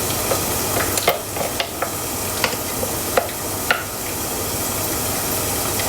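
Chili paste is stir-fried for squid sambal, a steady sizzle and hiss in the pan broken by several sharp scrapes and clacks of the spatula, close and without talk.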